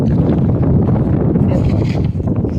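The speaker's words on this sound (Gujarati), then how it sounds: "પવન તો બહુ જોરદાર છે" Strong wind buffets the microphone outdoors, a loud, continuous low roar with gusting swells and no voices.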